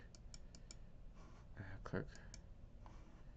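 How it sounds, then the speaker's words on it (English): A few quick, light computer mouse clicks, including a double-click, made up close while working in a Group Policy settings window, with soft background sounds around them. "So I'm gonna double click."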